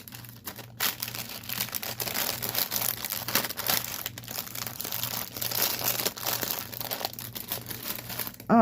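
Plastic packets of cross stitch threads crinkle and rustle steadily at close range, with sharper crackles scattered through and a short gap near the start.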